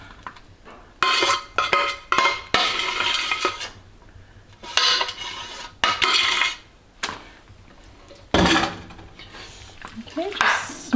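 Macaroni and cheese is spooned into a baking pan, with a run of scraping, clinking utensil-on-metal strokes in uneven bursts and short pauses, close and fairly loud.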